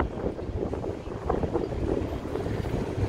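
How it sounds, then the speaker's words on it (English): Wind buffets the microphone on a downtown Chicago street at Rush Street and Chicago Avenue, a loud continuous roar with gusty swells throughout. "Again, it's a little bit windy."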